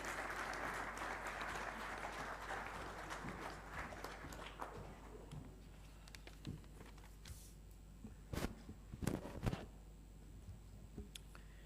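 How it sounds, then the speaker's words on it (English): Applause from the audience at an aviation event, broad clapping for the first four seconds that thins into scattered claps and fades. "please join me in extending a warm round of applause"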